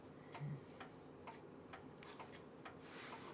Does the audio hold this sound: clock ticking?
yes